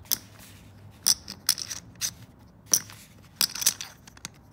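Custom poker chips are shuffled close by, with sharp clicking clacks in uneven bursts over a quiet background and no talk.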